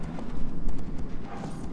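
Hooves of a galloping horse in Shadow of the Colossus, a steady rapid clip-clop rhythm running throughout at moderate loudness.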